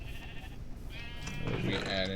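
Sheep in the video game Minecraft bleat in short wavering cries across the clip, fairly close and clear, while people talk over them throughout.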